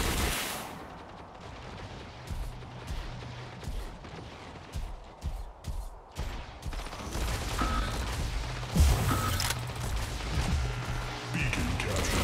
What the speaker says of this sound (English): Incoming fire!